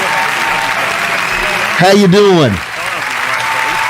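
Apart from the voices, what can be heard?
studio crowd applause sound effect on radio show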